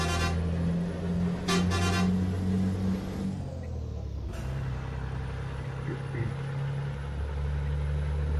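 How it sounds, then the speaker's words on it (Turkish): A deep, steady Scania truck air horn in Euro Truck Simulator 2 blares in two bursts over a constant engine drone, then a loud whoosh of released air as the motor idles on; rain on slick roads. "Şöyle bir havalı kornamız vardı."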